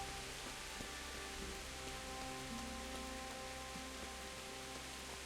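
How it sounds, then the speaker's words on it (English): Steady rain falls in a video game across the whole stretch, a dense even hiss with a faint constant hum and tonal lines beneath, no voices present. "Oh, it's raining again."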